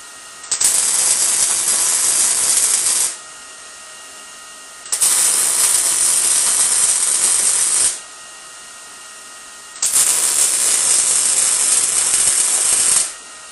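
Three long bursts of welding on a blacksmith guillotine tool, each a loud steady crackling hiss lasting about three seconds, separated by quieter pauses, close and without speech.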